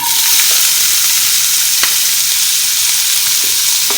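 Chopped onion tipped into a hot pan for saucy palak paneer, setting off a steady broad sizzle with a few faint stirring clicks and scrapes, close and continuous throughout.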